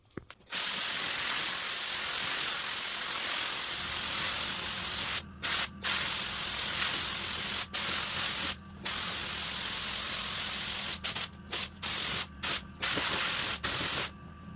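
A spray can or gun lays a paint coat onto a Honda in long, loud continuous hissing bursts, broken by several short pauses between passes, close up with no talking.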